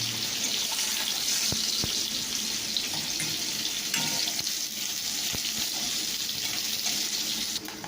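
Hot oil with panch phoron spices crackles in a pan before eggplant is fried: a steady, close hiss of sizzling fills the whole stretch, with scattered sharp pops and clicks and no voices.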